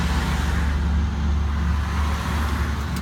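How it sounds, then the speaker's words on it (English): Steady road traffic rolls past a pulled-over electric ELF velomobile on a roadside: several cars sweep by close and loud with continuous engine and tyre rumble, no voices. "Couple more vehicles."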